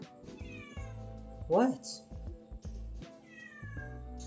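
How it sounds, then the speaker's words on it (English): A cat meows in a home garage with a single loud, drawn-out, close cry. A person speaks briefly around it amid quiet background sounds. "Okay, there's a cat in my garage apparently."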